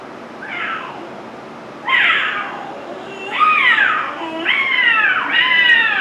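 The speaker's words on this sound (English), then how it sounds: "And the howls of a lovesick cat." A cat yowls in a series of drawn-out, rising and falling howls, growing louder and longer, close and alone against a quiet background.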